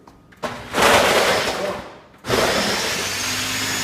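A blender making an acai bowl whirs loudly, cuts out briefly, then starts again and keeps running with a steady, dense grinding roar up close.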